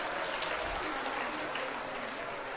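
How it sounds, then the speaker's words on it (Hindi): Audience at a live Hindi religious darbar clapping on request, a faint, dense patter of many hands heard from a distance with no clear voices. "यदि सही है तो ताली बजा दें।"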